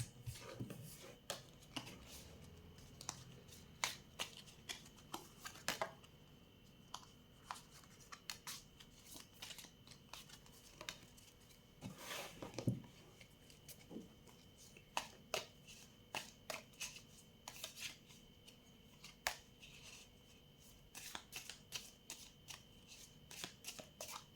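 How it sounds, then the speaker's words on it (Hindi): Tea leaf tarot cards are handled, shuffled and gathered up, giving a long run of soft papery flicks and riffles, close but quiet, with no voices. "ये सारे कार्ड्स मैं रख दूँ"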